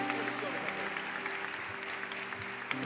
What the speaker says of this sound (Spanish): Más fuerte ese aplauso al Señor.